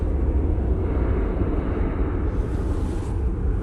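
A Bombardier Challenger business jet departs from an airport, producing a steady, broad roaring rush of jet noise throughout, fairly loud and sustained, with some wind buffeting on the microphone.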